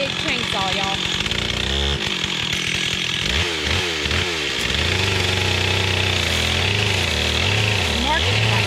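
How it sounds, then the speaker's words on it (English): A big chainsaw cuts into a hickory tree outdoors, its engine revving up and down in loud surges as the chain bites, with people talking over the noise. "That's a big chainsaw, y'all."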